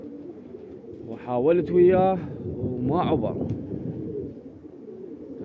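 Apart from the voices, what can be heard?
pigeons cooing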